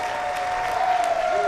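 Crowd applause at a professional ten-pin bowling match, the 2019 Weber Cup, a steady, dense clapping from a large audience that holds loud and even throughout, with a faint tone running beneath it.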